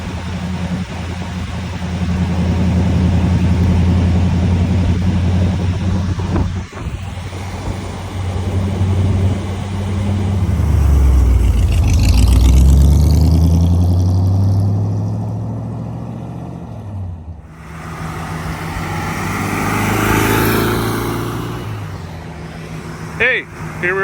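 A 1938 Ford convertible coupe cruises along with a steady, rumbling engine note that swells and fades as it accelerates and slows, with a loud passing surge midway and voices talking over it.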